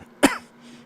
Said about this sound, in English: I'm sorry, I'm coughing on you guys.